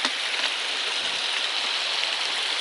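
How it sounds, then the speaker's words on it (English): Steady, dense rush of a roaring waterfall beside a river trail during a river crossing on the Appalachian Trail, a continuous broadband roar that fills the scene without breaks. "It's probably a waterfall."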